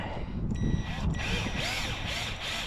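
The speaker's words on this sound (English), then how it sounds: "See how it's drilling it there now?" An impact driver sinks a self-tapping screw into thick trailer metal, giving a steady, close whirring drive with rattling bursts, while people talk faintly nearby.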